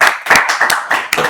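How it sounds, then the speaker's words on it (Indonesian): A small group claps in uneven bursts, several sharp close hand claps across a brief moment, fairly loud and near, with no talking. "Tepuk tangan dulu dong."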